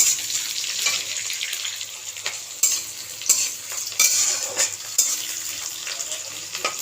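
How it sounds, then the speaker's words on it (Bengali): Chopped onions frying in a pan, a soft continuous sizzle broken by several louder scraping stirs of a spatula, close up with no speech. "পেঁয়াজগুলো একটু নেড়ে চেড়ে নেব যতক্ষণ না একটু বাদামি কালার হচ্ছে"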